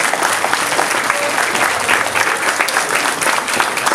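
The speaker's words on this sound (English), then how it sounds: "Let's give them a round of applause." Loud, dense audience applause for volunteers fills a Boys & Girls Club steak fundraiser dinner in Citrus County, a steady crowd clatter with faint voices mixed in throughout.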